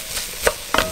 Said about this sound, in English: I don't actually have a real device to mash these potatoes, so I'm just using this spoon.